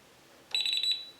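An electronic carp fishing bite alarm that triggers on vibration emits a short, shrill, warbling beep of about half a second when touched, close and alone against faint background hiss.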